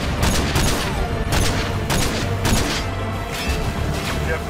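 Sniper rifle fire in Call of Duty Modern Warfare 2 comes as loud, separate cracking shots, spaced roughly every half second to second, each with a booming tail over a continuous bed of battle noise.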